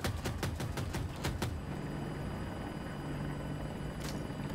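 Attack helicopter in Battlefield 2042 flying through a sandstorm: a loud, steady rotor drone with a quick series of sharp repeated cracks at the start and another burst near the end, and no talking.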